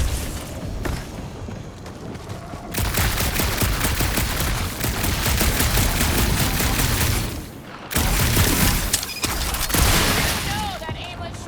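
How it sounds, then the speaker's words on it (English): Gunfire in Marvel's Guardians of the Galaxy game on a dark monster planet, dense rapid bursts rattling almost continuously for several seconds with booms, a short pause, then more shots, while voices talk over it. "that aimless shooting isn't gonna scare the monsters away"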